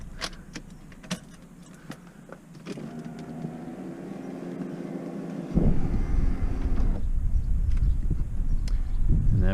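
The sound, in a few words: Porsche Boxster convertible roof (hood) raising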